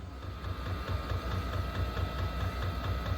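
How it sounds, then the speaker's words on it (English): A Chinese diesel heater installed in a boat primes its fuel, giving a steady rapid ticking pulse from the pump with a low mechanical hum, close and continuous. "All right, it's trying to prime, so we'll see if it takes off"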